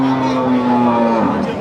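A Jafarabadi buffalo calf at the Erragadda buffalo market in Hyderabad gives one long, loud, sustained moo close by, with faint market crowd noise behind it.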